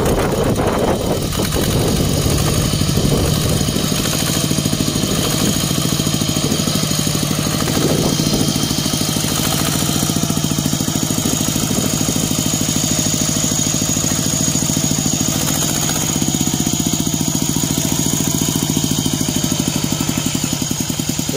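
A three-disc plough tractor's engine runs steadily and loudly up close, revving up and easing back with a continuous mechanical drone and rattle throughout.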